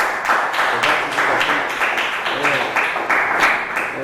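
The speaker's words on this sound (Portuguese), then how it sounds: "Dá uma salva de palmas." Church congregation claps together in a loose, rhythmic pattern of repeated bursts, moderately loud, with faint voices mixed underneath.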